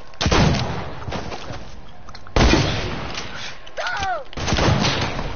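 Gunfire in the online shooter game Raze Legends crackles in loud bursts across the clip, separated by brief gaps, while a player talks over it.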